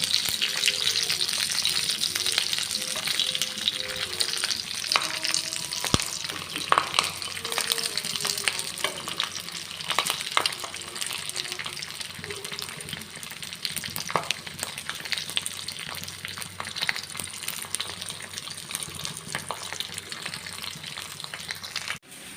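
Green fish frying in a pan, a steady close sizzle and crackle of hot oil running throughout with occasional stirring clinks and no voices.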